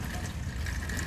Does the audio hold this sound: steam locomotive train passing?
no